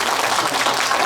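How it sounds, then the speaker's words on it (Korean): Audience applause in a hall at a Buddhist monks' discussion gathering in Busan, a steady dense wash of clapping from many hands filling the whole moment without a break. "우리 박수 한번 쳐볼까요?"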